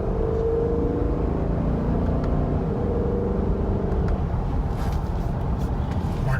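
A 2018 Dodge Durango R/T fitted with SRT-style paddle shifters runs through its gears, its engine a steady, close, loud drone that lifts slightly toward the end.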